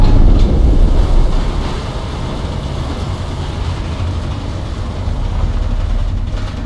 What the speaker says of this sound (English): Was that an active subway train?